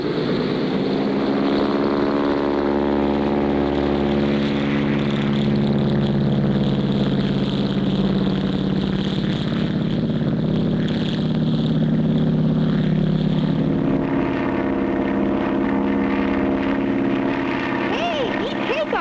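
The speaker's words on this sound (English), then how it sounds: "Hey, neat takeoff, Clutch." A propeller bush plane engine drones loudly and steadily throughout takeoff, its pitch rising and shifting, and music runs under it.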